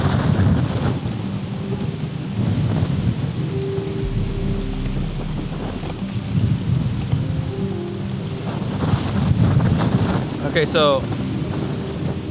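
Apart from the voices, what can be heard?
distant rain and thunderstorm with wind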